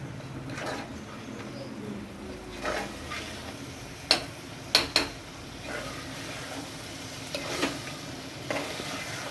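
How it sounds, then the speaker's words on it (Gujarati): Papadi dal is stirred with chutney, salt and turmeric, giving a soft, steady scraping and sizzle with a few sharp clinks of a spoon against the pot, and birds coo faintly in the background. "ચટણી મીઠું હળદર બરાબર મિક્સ થઈ જાય માટે આપણે વ્યવસ્થિત હલાવી નાખીએ"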